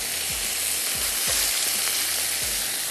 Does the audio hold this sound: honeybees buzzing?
no